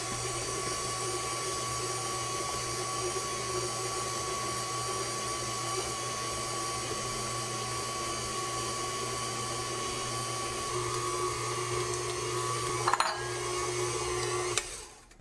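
A KitchenAid Classic Plus stand mixer runs at its low stir speed, giving a steady motor whine and hum that continues evenly, with a brief clatter near the end as chocolate chips or nuts go in.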